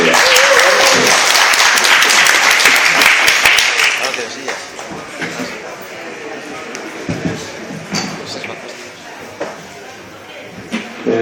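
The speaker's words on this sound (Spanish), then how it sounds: "Un aplauso a Javier Negrete." A festival audience applauds for Javier Negrete at a book presentation, a loud, dense burst of clapping that fades after about four seconds into scattered claps, shuffling and room noise.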